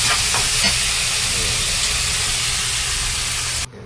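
Tomatoes cooking and being mashed in a frying pan for chili garlic bangus, a loud continuous sizzle with scraping stirs, cutting off abruptly at the end.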